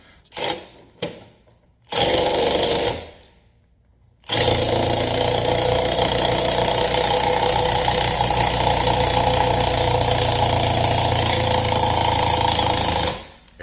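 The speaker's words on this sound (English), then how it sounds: "I'm gonna make you guys jealous and use my impact" An impact wrench removing lug nuts from an SUV wheel: a few short bursts, then a long loud continuous rattling hammer for about nine seconds, close by with no talk.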